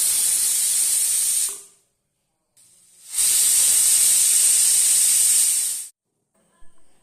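A pressure cooker boiling potatoes lets out two loud, sustained steam hisses, the first about a second and a half long and the second nearly three seconds, with silence between and after.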